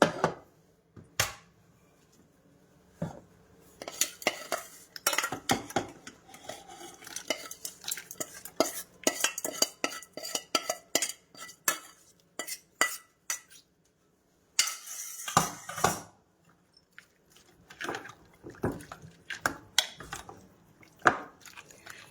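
A spoon scrapes and clinks against a metal pot in quick, irregular bursts of stirring as hot tempering is mixed in, with brief pauses between strokes.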